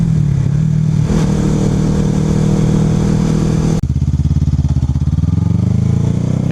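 A 250cc starter motorcycle engine, loud and close, with the throttle rolled on only slightly. The engine holds a steady drone, then the pitch drops and settles into a pulsing, lower-revving beat.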